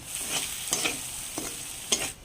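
Garlic goes into hot oil with bay leaf and cinnamon already in the pan, giving a soft sizzle broken by a few quick scraping stirs, close and fairly quiet, with no voices.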